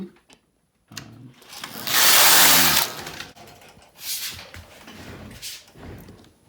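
A Passap E6000 knitting machine carriage makes a loud, rushing mechanical pass while knitting a raglan sweater, followed by quieter clicks and shorter sliding bursts nearby, with no voices.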